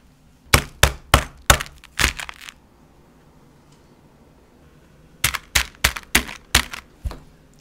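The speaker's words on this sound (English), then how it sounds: "I'm going to try to break a few pieces off of this sugar skull" Pieces being snapped off a sugar skull: two separate bursts of sharp, close cracking and crunching, five or six snaps in each, with a quiet pause between them and no talking.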